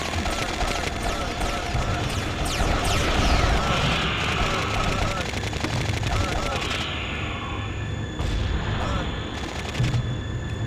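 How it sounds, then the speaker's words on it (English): Mortar fire in the 1999 video game Army Men: Toys In Space, heard as dense, continuous rapid gunfire and explosions with a whistling sweep, loud and unbroken throughout. "you can control one of the mortar guys to constantly fire off"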